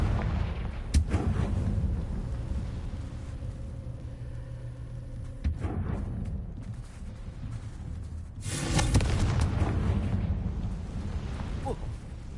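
Confringo fire-blast spell explosions from the wizarding video game Hogwarts Legacy, a few heavy booming bursts with rumbling low-end decay, spaced several seconds apart over a steady background rumble.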